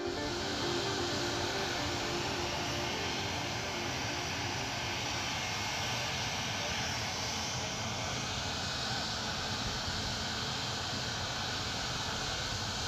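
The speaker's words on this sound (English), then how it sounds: "I'm standing in front of a jet engine. We're testing out how loud it is." A jet engine roars continuously nearby during a noise test, a dense, even blast of broadband noise with a high whining edge that never lets up.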